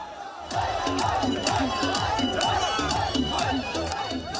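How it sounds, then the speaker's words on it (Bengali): A large crowd of students and other people gathered at an evening street protest in Bangladesh, a dense continuous roar of shouting and cheering with rhythmic chanting, loud and close throughout. "তবে সন্ধ্যা থেকেই বাড়তে থাকে ছাত্র জনতার ভিড়।"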